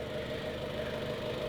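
A 2016 Jeep Cherokee Latitude's 2.4-liter MultiAir Tiger Shark four-cylinder engine runs at a steady idle, a moderate even hum with faint mechanical ticking and no voices over it.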